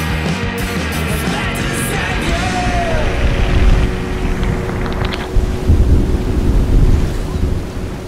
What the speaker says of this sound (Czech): Silný vítr, velké vlny a loď zažívá opravdovou první tvrdou zkoušku.